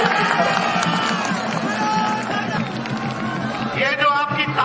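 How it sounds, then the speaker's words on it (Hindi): A crowd at a BJP political rally in West Bengal applauds and cheers, a dense, steady roar of many voices and clapping that swells louder near the end. "ये जो आपकी तालियां हैं, ये जो आपकी गड़गड़ाहट है"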